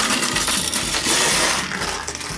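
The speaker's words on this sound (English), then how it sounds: "Let me dump this out. It might be a little loud." A pile of coins dumped out loudly for sorting, a dense continuous metallic clatter and jingle that pours on steadily for a couple of seconds, close and alone with no voices.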